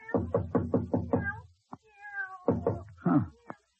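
A cat meows repeatedly, a quick run of five rhythmic calls followed by a pause and then more drawn-out, wailing meows, close and clear against a quiet background.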